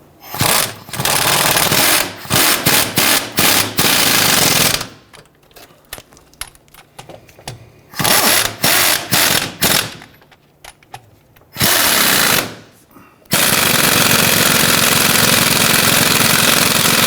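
An impact tool tightens rear upper control arm bolts on a 1999-2004 Jeep Grand Cherokee: loud repeated bursts of rapid hammering chatter, some brief and some held for seconds, separated by pauses, close by with no talking.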